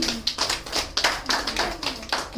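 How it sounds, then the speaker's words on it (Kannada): An audience at a Kannada cultural celebration breaks into applause, a quick run of rhythmic claps in bursts with a faint low hum underneath and no clear speech. "ಅವ್ರ ಒಂದ್ಸರಿ ನಿಮ್ಮೆಲ್ಲರ ಪರವಾಗಿ ಚಪ್ಪಾಳೆ"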